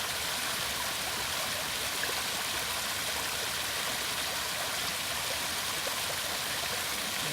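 Steady waterfall roar in a fishing video game, a dense, even rush of falling water that continues unbroken and fairly loud with no talk over it.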